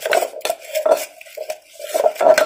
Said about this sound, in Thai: คนให้น้ำตาลแตกก่อนนะคะบดโขลกให้น้ำตาลละลายก่อนนะคะ